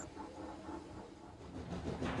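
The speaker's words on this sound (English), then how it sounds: "he let out a sad wheesh of steam" A steam locomotive in the Trainz railway game lets out a long, soft hiss of steam, a steady broadband wash with a faint rhythmic undertone of the engine.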